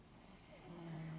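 A man sleeping in a tent on a long-distance Appalachian Trail hike snores softly nearby, one faint rising nasal drone building toward the end in an otherwise quiet night.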